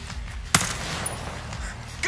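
Video game gunfire crackles through a short burst, with one sharp loud shot near the middle and another burst at the end over steady background game noise.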